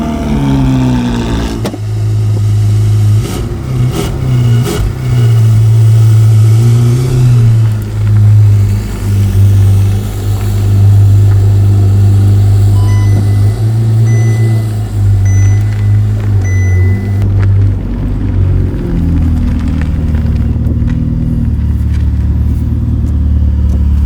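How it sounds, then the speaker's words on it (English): Ferrari 488 Pista Spider V8 with a standard flapped exhaust, revving loudly and continuously nearby, a deep rumbling roar that rises and falls through repeated throttle blips without any talk. "It does have a flapped exhaust, but it's a standard one."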